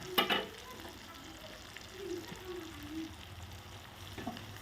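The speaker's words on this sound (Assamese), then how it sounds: "গোটেইখিনি সামগ্ৰী একেলগে ভাজি ল'ম।" Tomatoes, green chili and spices fry in hot oil in a pan with a soft, continuous sizzle, punctuated by a few clinks and scrapes of a stirring utensil, heard close and fairly quiet.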